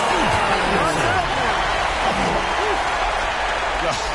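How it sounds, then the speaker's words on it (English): Crowd cheering erupts after a slam dunk at an All-Star Weekend event in a basketball video game, a loud steady roar filling the whole moment, with a commentator's voice running over it. "the crowd goes crazy after seeing that finish"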